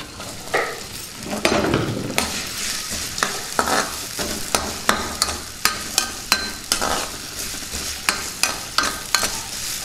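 Small chopped ginger pieces fry in oil for ginger chutney, giving a steady sizzle with a regular run of sharp scraping taps as they are stirred in the pan.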